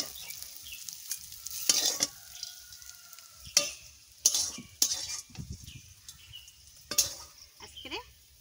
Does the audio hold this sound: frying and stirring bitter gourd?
yes